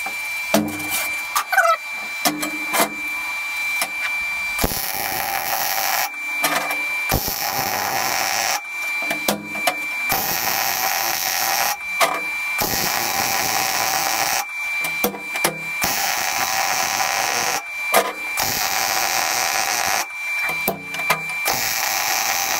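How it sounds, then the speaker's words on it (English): Trolley parts for a 7.25-inch gauge loco build being welded, with anti-spatter in use: loud, close crackling bursts lasting a few seconds each, separated by short pauses, with no talk. "let's get these welded."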